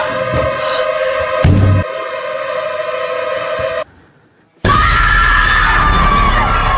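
A woman screams hysterically in a horror film as a ghost suddenly appears, a loud sustained shriek over eerie tones, cut by a brief silence before a harsh burst of noise resumes.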